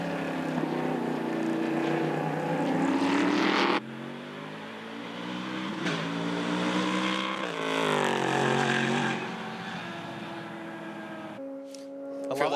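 A high-revving prototype racing car engine howls past at the Australian Prototype Series in Sydney, pitch rising and falling through gear changes, loud and close, then fades to a lower idle-like drone.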